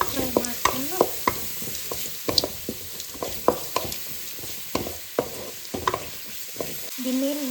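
A spoon stirs frying food in a pan seasoned with turmeric powder, giving soft, irregular scrapes and knocks over a low sizzle, close by and moderately loud.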